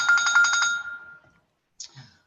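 A telephone rings close by in a classroom video-conference setting with a fast trilling electronic burst that fades out, followed after a short gap by a brief faint sound.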